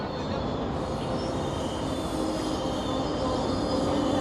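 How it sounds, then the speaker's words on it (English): A GO commuter train inbound to Union Station, Toronto, rumbles past close by in a steady, loud roar of rolling wheels and rail noise, with faint squeals on top, and no voices. "And here comes a GO train inbound to Union Station."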